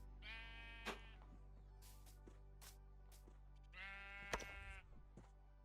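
Sheep bleating in a PvP video game: two drawn-out, wavering bleats, one near the start and a second a few seconds later, heard close over steady game background noise with a few sharp clicks.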